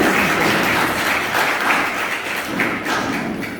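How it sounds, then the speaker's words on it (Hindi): Audience applause at a Brahma Kumaris spiritual gathering, a dense, steady wash of clapping from many hands that stays loud and close through the whole stretch without any talk. "अभी अपने लिए ताली बजा दीजिए"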